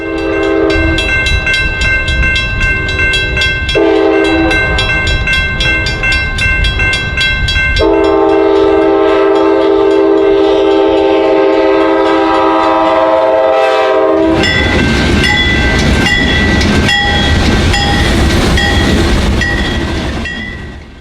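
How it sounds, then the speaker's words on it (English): Two Amtrak P-32 diesel locomotives moving a train out of Chicago, loud and close, with long horn blasts over a heavy engine rumble and rolling wheels that continue to the end. "two Amtrak P-32 diesels are being used in a special power move out of Chicago"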